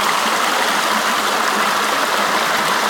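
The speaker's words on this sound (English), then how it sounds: "and there's water, lots of it." The San Juan River runs full after recent rains at the bottom of a trail loop, a loud, steady rush of flowing water filling the whole stretch with no voices.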